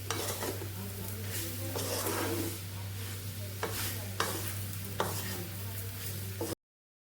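Leftover roti pieces roast crisp in a pan over low heat, with steady scraping and stirring, occasional sharp clinks of a spoon against the pan and a soft sizzle, close and continuous under a low electrical hum.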